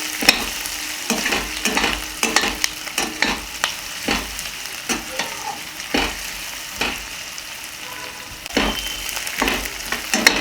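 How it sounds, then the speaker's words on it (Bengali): Onions frying in oil in a pan over medium heat, a soft continuous sizzle broken by repeated scraping strokes of a spoon as they are stirred, close and moderately quiet. "পেঁয়াজটাকে আমাকে এবার নাড়াচাড়া করে ভাজা ভাজা করতে হবে।"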